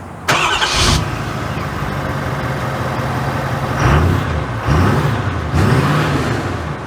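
A 2024 Ford F-350 Tremor High Output pickup drives with a steady, loud low engine drone, broken by rising and falling gear-change sweeps as it accelerates. There is no talk over it.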